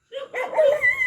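A dog gives a short burst of yappy barks and whiny yips close by, a quick run of sharp, high-pitched calls lasting about a second.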